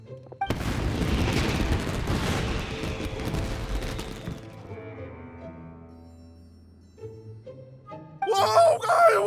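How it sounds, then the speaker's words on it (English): Fireworks burst in Genshin Impact, a loud crackling volley of booms that rings out and slowly fades over several seconds, followed by a brief sharp sound at the end. "this is turning into a bit of a fireworks display"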